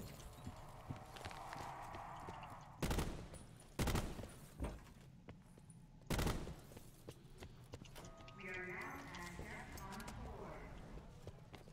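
Gunfire in a Call of Duty Zombies game: three sharp, loud shot bursts spaced a second or more apart against a busy game background, with a player talking.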